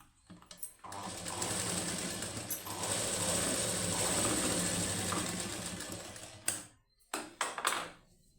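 A sewing machine stitching the high neck of a plain blouse runs in a steady, fairly quiet whirring burst of several seconds, framed by short starts, stops and handling noises.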